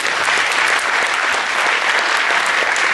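Loud, close audience applause at a university weekend event, a thick continuous wash of clapping hands with no pauses or voices standing out.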